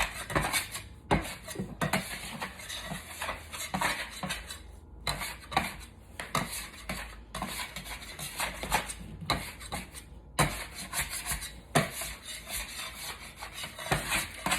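Bread dough being worked by sticky hands in a round bowl during final shaping, giving repeated soft rubbing, slapping and scraping bursts in an uneven rhythm, close up and alone with no talk.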